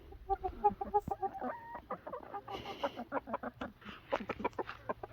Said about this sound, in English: Chickens are climbing underneath chickens.